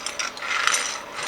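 A restored Wilton vise is loosened and slid along its base, giving a brief, close, ratcheting metallic grind with light scraping and rubbing, with no voices.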